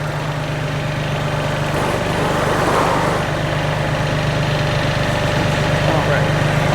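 A tractor's engine idles steadily in park with the transmission in neutral while an implement is being attached, giving a loud, continuous low rumble with an even vibrating hum throughout.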